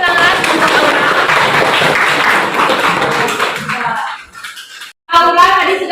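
Classroom applause for a pupil during a primary school religious studies lesson, a dense burst of many hands clapping together for about four seconds, then fading out before a brief pause and renewed sound at the end.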